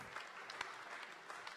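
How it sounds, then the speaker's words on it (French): Audience at the IMOCA 2012 sailing world championship prize-giving applauding, a faint, steady patter of many hands with a few sharper individual claps standing out, no talk over it. "Un applaudissement, s'il vous plaît"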